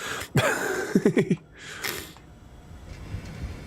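A short burst of throat clearing and rapid coughs, several quick harsh hacks close by, followed by quiet rustling.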